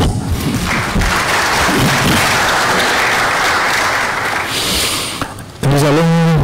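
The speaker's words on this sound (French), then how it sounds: "Je vous remercie pour vos applaudissements." Loud, dense applause from an audience after a presentation on actuarial science, sustained for several seconds before thinning out and giving way to someone speaking.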